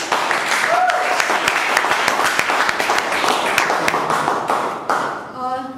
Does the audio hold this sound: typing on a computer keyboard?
no